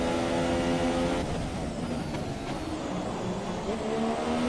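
F1 race cars from the video game F1 2017 racing in Bahrain, a steady high-pitched engine whine from several cars at a constant loud level, with a faint voice in the background.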